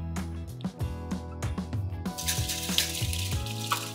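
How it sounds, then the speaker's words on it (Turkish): Water poured off boiled potatoes into a sink, a steady splashing rush running throughout, with clinks from the pot along with it, close and fairly loud. "Bu arada da patateslerimizi süzelim."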